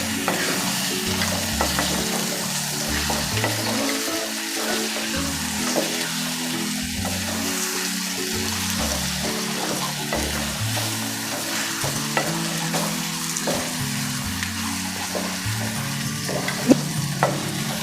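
Chicken frying in a pan for moringa gosht, a continuous sizzle with repeated scraping and clanking of a spoon stirring the pieces, close and steady throughout with no voices.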